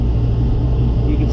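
A 2016 Chevrolet Silverado truck engine idles with a steady low rumble, close and constant throughout.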